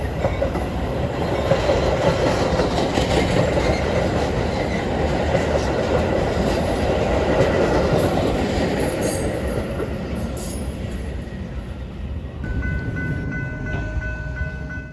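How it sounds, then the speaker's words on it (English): Metra commuter train rolling past on the busy BNSF triple-track line at Downers Grove, a loud steady rumble of wheels and cars with faint squeals and clicks, easing slightly toward the end. "the action kicked off right away as we throw ourselves into Metra rush hour."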